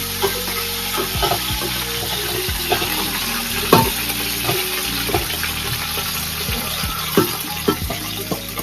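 Onions sautéing in a pan with a little mint for biryani, a steady sizzle under repeated scraping and knocking of a spoon against the pan, no voices.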